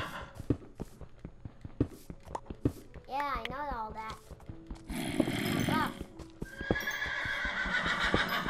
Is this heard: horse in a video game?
yes